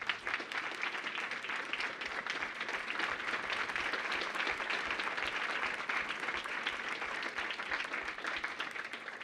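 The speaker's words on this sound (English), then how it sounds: "if we could give them a warm round of applause" A large audience at a 2024 finals event gives warm, continuous applause, heard as an even, fairly distant wash of clapping that holds steady throughout.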